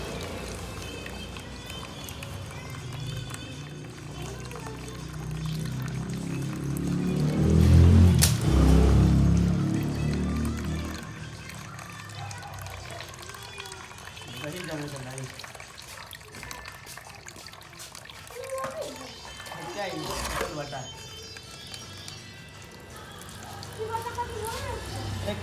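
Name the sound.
water draining out of a flooded motorbike engine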